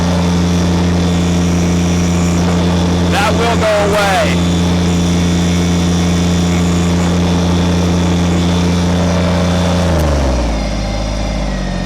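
A Kubota BT602 backhoe engine runs at a loud, steady pitch close up and then drops lower near the end, with someone talking over the droning engine.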